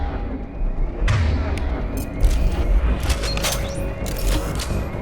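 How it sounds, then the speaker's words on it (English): Grenade launcher explosions in a Mass Effect firefight, several loud booms and sharp bursts scattered across a few seconds over a busy background of combat noise. "Use the grenade launcher to take them out."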